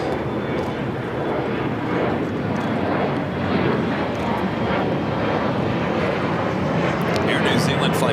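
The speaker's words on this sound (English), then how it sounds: "Air New Zealand Flight 4 coming up from Auckland at 777 to 300 ER, touching down 25 left" An Air New Zealand Boeing 777-300ER from Auckland touches down on runway 25 left at LAX, its broad jet roar holding steady and loud throughout while people talk over it.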